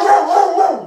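A dog gives one close, loud, drawn-out bark with a howling edge, sounding alone.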